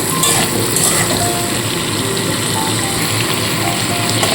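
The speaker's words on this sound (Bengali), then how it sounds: "আলু গাজর আগে দিয়ে একটু ভাজা ভাজা করে নেব" Potatoes and carrots frying in a pan, a steady, dense sizzle that runs continuously and evenly throughout.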